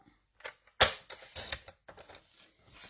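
Paper being cut to size for a berlingot box, a series of sharp, irregular snips and crisp rustles, close and fairly loud, separated by short quiet gaps.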